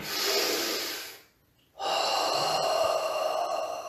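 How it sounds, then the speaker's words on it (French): Breath is pushed out through an open mouth during a health and joint-mobility exercise class: a long, airy breath close to the microphone, a short silent pause, then another long breath. "quand vous soufflez, laissez l'air sortir, bouche ouverte"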